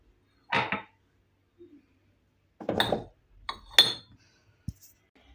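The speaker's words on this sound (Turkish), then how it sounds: "Bu bardaklarımı da buraya koyuyorum." Drinking glasses are set down on a kitchen shelf, making several sharp, close clinks and knocks separated by quiet gaps, with no voices.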